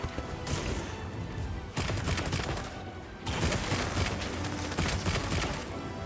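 Gunfire from a gun in the game Monster Hunter Wilds, a dense, loud, continuous crackle of shots that drops out briefly twice before resuming, with no talk over it.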